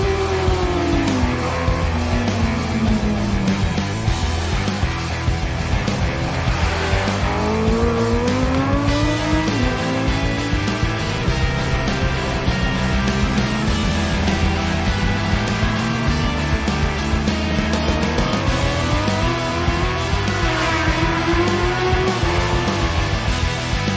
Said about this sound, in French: c'est ça la dernière génération des Honda CBR